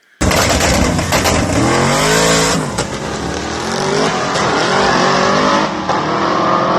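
A race car accelerates hard on a track with its tire lifting and spinning. A loud, close engine roar snaps in abruptly, its pitch rising and falling with revs over a raspy tire-spin hiss, with no talk.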